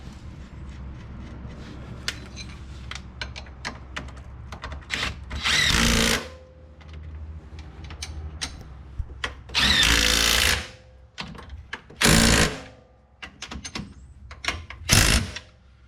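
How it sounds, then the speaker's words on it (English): A power tool tightens a nut during a Highlifter lift kit install on a CFMOTO CFORCE ATV, with several loud whirring bursts of a second or so each, separated by quieter workshop clatter and handling noises. "put your nut back on and then tighten it back down"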